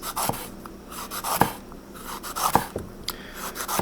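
A kitchen knife cuts a jalapeno on a cutting board, with sharp clicks and short scraping strokes at an uneven rhythm, close and fairly loud.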